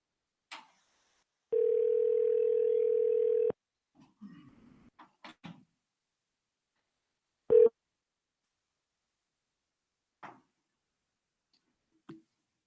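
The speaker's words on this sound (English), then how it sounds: "we got Miss Solis's voicemail, so we will go on to the next speaker." Telephone call tones from a phone-in public comment line during a school board meeting: a steady two-second dial or ring tone, then scattered clicks and brief beeps with a short muffled recorded voicemail fragment, all fairly faint and sparse.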